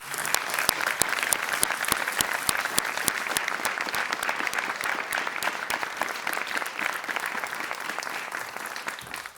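Steady, dense applause from a conference audience on equality, sustained loud clapping throughout with no break, filling the hall at an even level.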